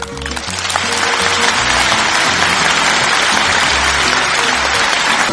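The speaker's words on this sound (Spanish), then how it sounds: "El aplauso para el señor Jorge Pizarro." Loud, dense applause from a gathering at the Señor de los Milagros festivity in Santiago de Chile, rising quickly and holding steady, with low rhythmic music underneath.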